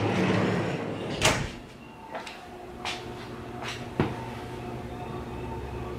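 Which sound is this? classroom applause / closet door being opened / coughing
closet door being opened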